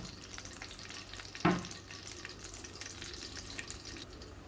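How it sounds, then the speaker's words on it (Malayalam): Mustard seeds dropped into hot oil in a pan, a steady faint sizzle with one brief louder clatter as they land, otherwise continuous and close, no voices. "പിന്നെ നമുക്ക് കടുകൊക്കെ ഇട്ട് കൊടുക്കാം."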